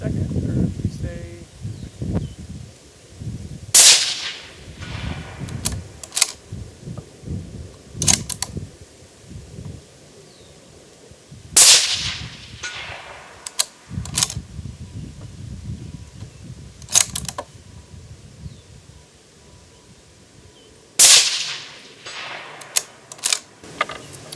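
Federal 6.5 Creedmoor rifle fired at a 300-yard target: three loud, sharp shots spaced several seconds apart, each with a quick decaying tail, over low outdoor rumble and handling noise.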